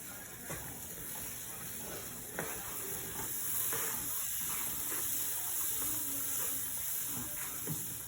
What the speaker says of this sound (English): Now we're going to put the atta. And we're just going to mix it up.